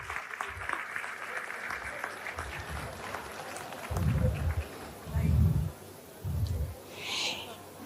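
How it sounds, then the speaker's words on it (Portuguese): An audience at a Brazilian political seminar's opening session gives mid-level applause, mixed with voices and a few low, booming bursts of sound. "Uma salva de palmas,"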